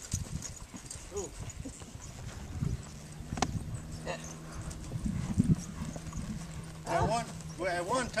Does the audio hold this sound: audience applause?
no